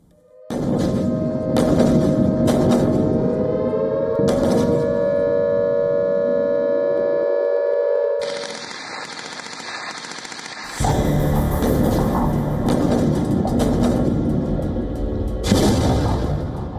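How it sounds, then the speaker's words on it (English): Explosions and gunfire in Gaza: a loud sustained roar with tonal sweeps and a siren-like whine, then dense crackling bursts of weapon fire, heavy and continuous throughout with no speech. "Loud explosion lights up the Gaza skyline."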